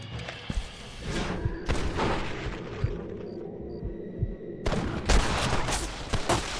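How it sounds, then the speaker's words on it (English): Rifle gunshots in the Western video game Red Dead Redemption, a few sharp booming reports spaced irregularly over a rumbling game ambience, with a brief lull before the sound swells again. "I need to use a rifle for this"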